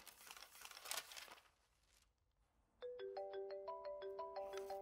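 A phone ringtone rings late at night in a house, a repeating melodic electronic tone with a steady pulse, arriving after a stretch of rustling and crinkling and then continuing loudly on its own.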